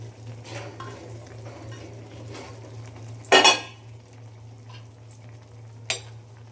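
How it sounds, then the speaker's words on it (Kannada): Soya chunks tipped into a frying onion and spice gravy in a pan and stirred, soft sizzling under scraping spoon strokes, with one loud metallic clatter and a later clink. "ಇವಾಗ ಸೋಯಾಬೀನನ್ನು ಹಾಕ್ತೀನಿ ಇದರಲ್ಲಿ"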